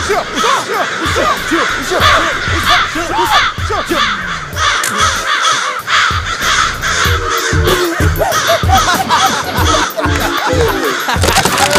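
Many crows caw loudly and insistently nearby, their harsh calls overlapping continuously in a noisy flock.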